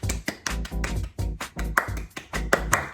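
Hands clapping in a steady rhythm of about a dozen sharp, evenly spaced claps, fairly close and alone with no talk, as an audience joins in during the Miss Universe 2025 opening ceremony.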